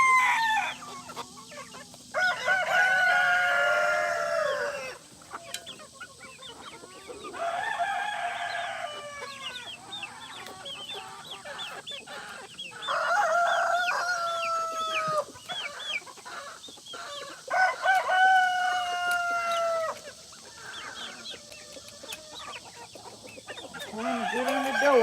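Chickens cluck and crow close by in a Georgia yard, with repeated overlapping calls and squawks rising and falling over about twenty-five seconds, no talking.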